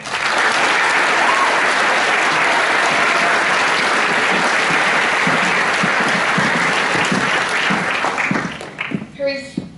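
A graduation crowd applauding a Year 13 graduate, loud dense clapping sustained for most of the stretch before thinning out near the end as a voice returns.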